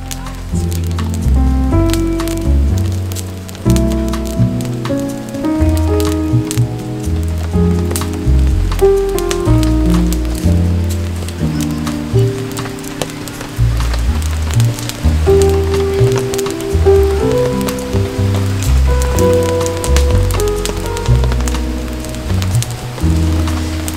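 Rain falls steadily at a rainy-day campsite in Pyeongchang, a constant patter under strong low tonal sounds that may be music, with no talk.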